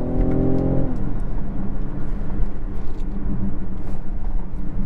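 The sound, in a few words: 2019 BMW X6 40i engine in sports mode, manual gear changes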